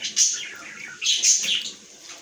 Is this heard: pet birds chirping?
yes